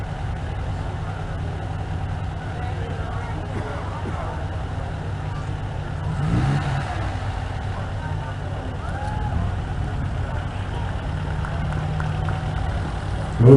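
An MG TD sports car at a concours show runs with a low, steady engine rumble that swells briefly about midway and again at the end. Voices murmur in the background.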